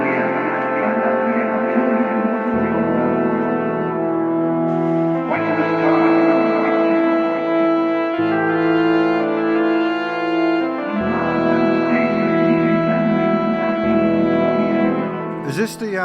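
Tolkien-inspired old school dungeon synth plays: sustained droning synth chords shift every few seconds over a low bass, slow and atmospheric, with no voices.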